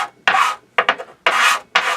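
Sandpaper glued to an MDF board rasps under a piece of wood in four or five loud, close strokes with short pauses between them.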